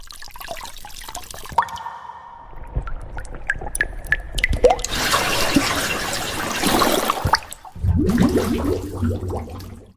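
Water drips and splashes in irregular bursts, mixing scattered close plinks with stretches of rushing, bubbling liquid, all without voices.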